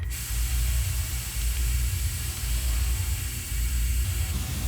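Hissing decontamination spray in a sci-fi film scene, a steady broadband hiss running continuously for several seconds over a low rumbling hum, loud and close with no voices.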